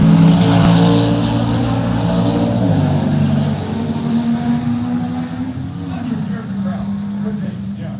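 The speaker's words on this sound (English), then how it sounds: "Chevy Gasser going up against the pickup over here." A Chevy Gasser drag racing a pickup at an antique nationals drag race, engines droning and revving loudly and close throughout, with a steady low roar and people talking over it.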